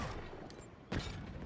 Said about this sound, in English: they've got some good sort of explosion effects when you're taking out the beasties across the map